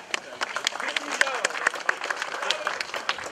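An audience bursts into lively applause, with quick, dense clapping throughout and a few voices mixed in.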